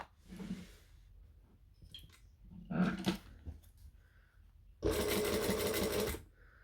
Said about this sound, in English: I'm going to start stitching about here